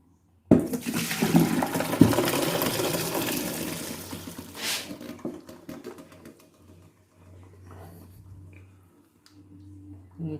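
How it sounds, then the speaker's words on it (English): Cooked carlin peas and their water pour into a colander at a kitchen sink: a loud rushing splash that slowly fades to trickles and drips, followed by quieter kitchen sounds. "Okay, just let them drain."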